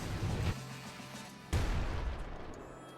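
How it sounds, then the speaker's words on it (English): Two sharp, loud gunshot bursts from a game weapon land about a second apart, each with a quick attack and a short rumbling decay, over a low hum. "SMG."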